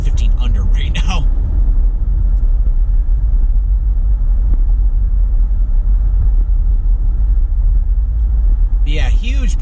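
Steady low road rumble from inside a car travelling well under the speed limit fills the whole stretch, with brief bursts of a voice talking at the start and end.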